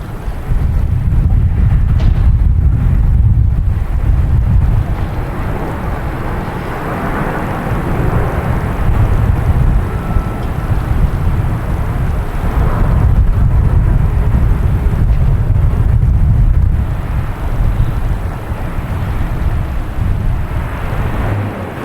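Philippine Airlines airliner at Boston Logan Airport, a steady loud jet roar with low rumble filling the whole stretch, mixed with wind buffeting on the microphone.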